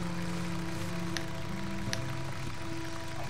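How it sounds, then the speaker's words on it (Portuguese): Steady heavy rain in the video game Days Gone, a dense even hiss that fills the whole stretch, with sustained low musical tones underneath and a couple of faint brief clicks. "Tá chovendo muito, hein?"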